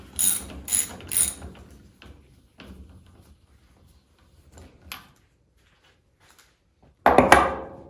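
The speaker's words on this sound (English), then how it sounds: "go back down to the bottom with our 19 mil socket and tighten up that bottom bolts" A ratchet with a 19 mm socket tightens the bottom bolts of a motorcycle fork, giving three loud close ratcheting bursts, then scattered faint clicks and a final loud burst of rapid ratcheting.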